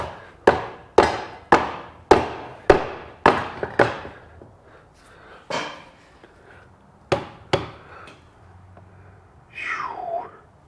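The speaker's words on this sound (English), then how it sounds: "Give these case halves a few taps." A series of dull, solid taps from a dead blow hammer on Suzuki GSXR 750 motorcycle engine case halves, about ten evenly spaced knocks, then a few scattered ones and a short scrape at the end.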